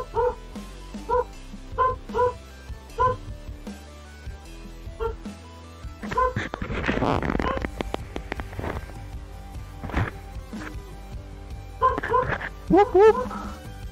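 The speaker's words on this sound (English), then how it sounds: "The dog's too loud." A dog barks repeatedly in short, evenly spaced yips, with a stretch of noisy rustling midway and more barks toward the end, fairly close by.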